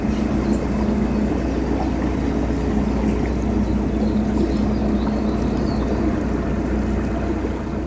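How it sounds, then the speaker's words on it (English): Engine of the well-known canal boat Aslan passing near Nantwich, a steady low diesel drone with a constant hum that runs unbroken at an even loudness throughout, with no talking. "A very recognisable boat, both by looks and by sound."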